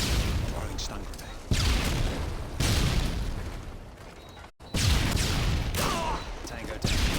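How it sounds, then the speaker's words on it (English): Explosive bursts and rapid gunfire from a stun grenade fight in Call of Duty: Modern Warfare 2, loud dense blasts repeating every second or so with a brief silent gap, a voice talking over parts of it. "Throwing stun grenade."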